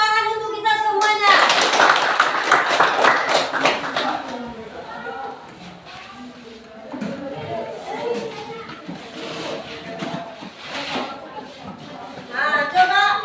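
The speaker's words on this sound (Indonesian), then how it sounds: "Tepuk tangan untuk kita semuanya." Group applause breaks out in a burst of brisk clapping with voices mixed in, fades under talk, then picks up again briefly at the end.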